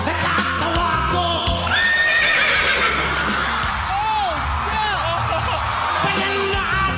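A man imitates a horse's neigh with his voice, loud and close, a long quavering whinny with rising and falling squeals over steady street or crowd noise, with people talking and laughing around him.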